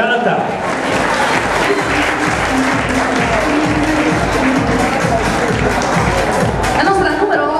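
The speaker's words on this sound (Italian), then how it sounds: "Allora l'applauso al numero 7" An audience applauds a contestant at the Miss MOAC Sanremo 2012 beauty pageant at the Mercato dei Fiori, dense steady clapping throughout with a voice and music faintly underneath.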